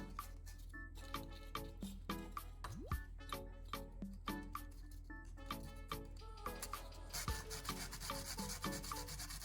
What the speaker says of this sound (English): clean the two contact ends with fine sandpaper